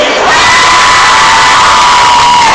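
A loud crowd of young girls at a manga convention in Paris screams and cheers in a sustained, high-pitched roar, close and overwhelming.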